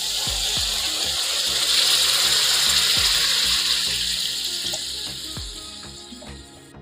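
Water poured into spice paste frying in oil in a pan for prawn curry bursts into a loud, close sizzle that gradually fades and quiets, with a few soft clinks and knocks of utensils, and no talking.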